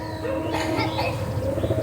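Madrasi high-flying pigeons coo in a low, continuous rolling murmur, fairly close and steady, with soft overlapping calls throughout and no talk.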